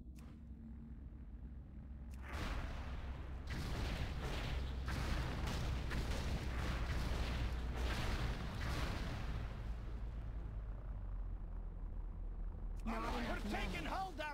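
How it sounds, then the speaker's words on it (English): Gunship cannons firing during the Icecrown Citadel airship battle in World of Warcraft, a long run of heavy booming blasts and rumble that keeps going, with a voice entering near the end. "Get a sorcerer out here to shut down those cannons!"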